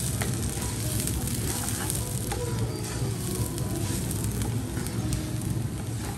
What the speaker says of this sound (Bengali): চালটা আমার ভাজা হয়ে গিয়েছে।